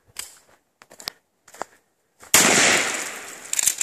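A gel blaster fires on a wooded trail: a few sharp, sparse clicks and pops come first, then a loud, sustained rattling burst of rapid shots runs to the end.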